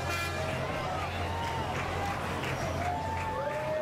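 A parade crowd at the Little League World Series Grand Slam Parade cheers and applauds as vehicles drive past, a steady roar of mixed voices with a commentator speaking over it.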